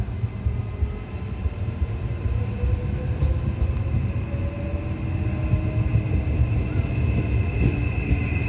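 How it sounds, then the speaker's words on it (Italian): A train passes through Firenze Rifredi station on platform 2 without stopping, a continuous low roar with rising whining tones, moderately loud and sustained throughout. "Treno in transito al binario 2."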